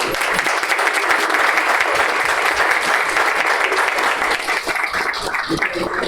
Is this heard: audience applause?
yes